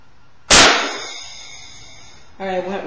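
A pumped compressed-air airsoft gun fires a Nerf bullet at full power with a single sharp, loud pop that rings and decays for about two seconds, followed by a voice.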